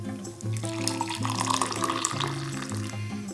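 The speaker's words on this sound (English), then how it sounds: "So now you just pour your coffee out and you're good to go." Brewed coffee pours steadily out of a French press, a continuous liquid gurgle and splash with a few small clinks, close and fairly loud, without talk.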